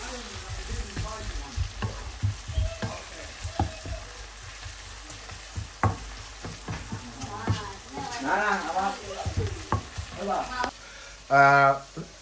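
Onions and green chillies frying in oil with salt, a steady close sizzle with occasional stirring clatter, while someone speaks over the cooking.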